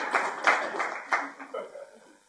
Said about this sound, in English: And clap if you want.